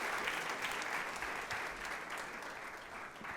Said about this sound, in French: est-ce qu'on peut encore l'applaudir très fort?